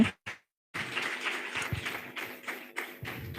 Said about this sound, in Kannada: ಅವರೆಲ್ಲರಿಗೂ ಜೋರಾದ ಒಂದು ಚಪ್ಪಾಳೆ ತಟ್ಟೋಣ